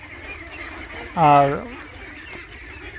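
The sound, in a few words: ducks quacking on a duck farm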